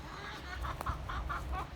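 Free-range chickens in a wooded area cluck in a quick rhythmic series, close and moderately loud over a low background rumble.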